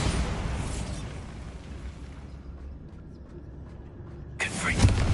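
A Bombarda spell blast roars loudly, then fades into a rumbling tail before a second sharp burst near the end, with a voice briefly present.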